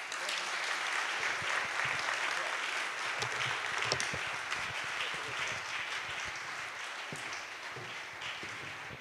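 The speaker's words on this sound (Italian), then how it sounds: "Un applauso." Audience applause at a military ceremony marking the 80th anniversary of the 46th Air Brigade in Pisa: sustained, fairly soft clapping from a large crowd that tapers slightly toward the end.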